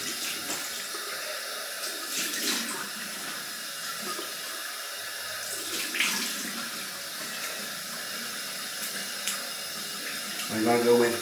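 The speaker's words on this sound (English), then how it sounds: "Cold water rinse." Tap water running into a sink for a cold rinse after a head shave, a steady close rush of water that stays even throughout and briefly changes tone near the end.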